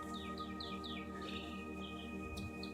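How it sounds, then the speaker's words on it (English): Small birds chirp and tweet in repeated short descending calls at a quiet, empty office park with young trees, moderately close over a steady low background hum. "I hear lots of birds"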